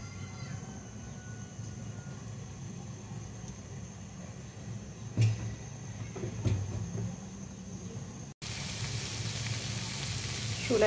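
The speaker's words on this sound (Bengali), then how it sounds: "এগুলো আমি হালকা সামান্য সরিষার তেল দিয়ে সটে করে নেব" Garlic, moringa leaves and green chillies sauté in a little mustard oil, giving a steady close sizzle with a few sharp stirring knocks. The sizzle brightens and grows louder near the end.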